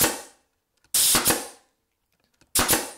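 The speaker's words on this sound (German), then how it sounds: "Und wenn die Leisten ausgerichtet sind, wer erwartet es anders, wird wieder festgeschossen." A nail gun fastens wooden battens onto potato crates, firing sharp pneumatic bursts in two separate groups of close shots with quiet gaps between them, loud and near with no talking.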